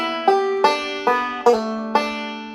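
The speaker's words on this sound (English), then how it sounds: "So it would sound like this with a pull off." Bluegrass banjo lick played with a pull-off on the first string, five bright plucked notes in a quick, even rhythm, close and clear with no talking.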